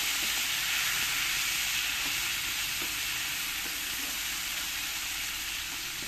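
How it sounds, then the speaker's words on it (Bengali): Tomato cooking down with onion in a pan gives a loud, continuous, even sizzle and hiss that holds steady from start to finish, with no talking. "টমেটোটা একটু ভালো করে আমি পেঁয়াজের সঙ্গে কষিয়ে নেব"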